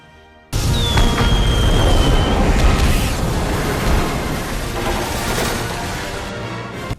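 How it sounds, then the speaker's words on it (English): Fireworks explode in a film finale, a sudden, loud, sustained roar of booms and crackling, with a whistling rocket rising early on and the blasts rolling on until they fade out. "Here come the fireworks."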